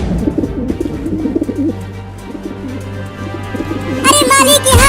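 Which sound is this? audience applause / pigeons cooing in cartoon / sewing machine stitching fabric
pigeons cooing in cartoon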